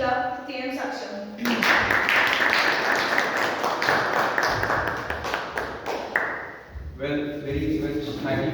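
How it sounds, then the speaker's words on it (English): Audience applause at a Toastmasters club meeting, a dense wash of many hands clapping for about five seconds between stretches of a speaker's voice before and after. "With big round of applause, I would like to invite the presiding officer for Toastmasters Club"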